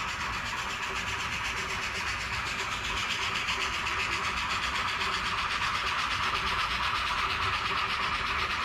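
A steady, continuous rumble of a model train pulling a long train up a steep grade on a layout, with a constant mechanical whir and faint rhythmic clicking, no voices.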